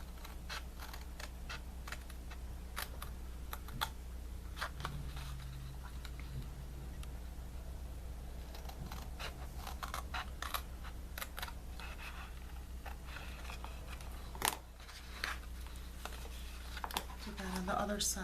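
Gift box paper for a gatefold box being trimmed with a blade up to the scoring line, giving a run of sharp small clicks and scraping cuts over a steady low hum, close and moderately quiet.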